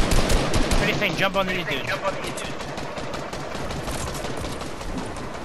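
Rapid automatic gunfire in an online shooter game, dense continuous bursts throughout, with players talking over it.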